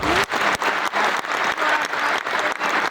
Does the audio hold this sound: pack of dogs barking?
no